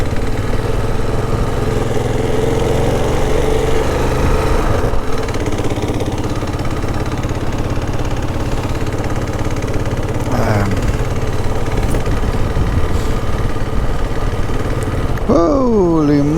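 Motorcycle engine near Port Nolloth beachfront in South Africa, idling steadily and pulling off in first gear, a continuous loud mid-low drone with a rising whine toward the end.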